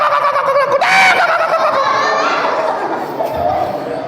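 A voice imitates a chicken clucking during an Islamic sermon, giving a loud, close, warbling series of cackling calls that rise sharply and then trail off.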